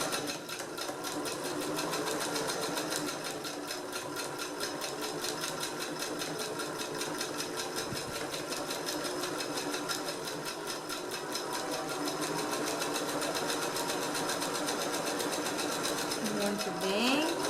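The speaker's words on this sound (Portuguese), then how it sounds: "Costura bem devagarzinho." A sewing machine stitches fabric slowly and carefully around a tight curve on a practical diaper-and-wipes bag, with a steady, continuous whirr of the needle, close and fairly loud throughout.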